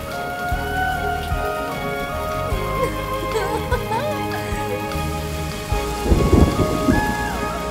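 Heavy rain pours steadily while thunder rumbles low and loud, swelling near the end, with a musical score and sustained tones layered over the storm.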